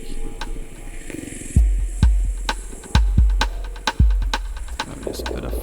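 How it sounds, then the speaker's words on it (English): An Ableton drum rack plays a deep, booming kick drum in a four-on-the-floor pattern, with roughly four thumps a second apart over a faint synth background, close and fairly loud, with no talking. "I wonder what it sounds like if I only have kick."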